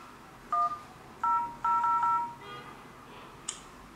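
DTMF keypad tones from a K-Touch U86 quad-core phone while dialing a call: a handful of short, clean beeps in quick succession, a couple of them run together, followed by a brief higher chirp, with no talking.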